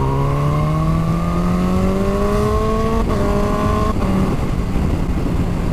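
A Kawasaki H2 supercharged motorcycle engine accelerates hard, its rising whine climbing steadily in pitch through the gears with brief breaks at shifts, loud and close with strong wind roar throughout.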